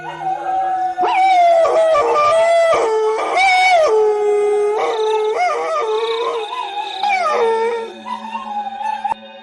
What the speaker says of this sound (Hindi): सभी कुत्ते भी उसका पीछा करने लगते हैं।